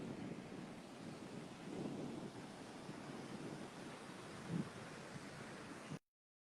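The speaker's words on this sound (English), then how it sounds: "It's a little bit windy," Steady wind at the beach rushing against the microphone with a low surf-like roar, no voices, ending abruptly in silence.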